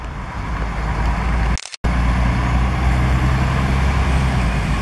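An Útil intercity bus pulls out of the Brasília bus station with a loud, steady diesel engine roar close by. Brief silence interrupts it before the heavy engine drone resumes.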